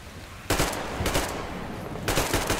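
Bursts of automatic gunfire from the Metro Exodus video game, three rapid volleys in quick succession, loud and close with no talk over them.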